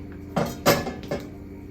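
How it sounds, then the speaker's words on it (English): Frozen wet ingredients hitting a hot cooking pot, three sharp sizzling bursts spaced roughly a third of a second apart, close and loud, each hiss cutting off quickly. "So these are going to pop and sizzle when I throw them in this hot pot here."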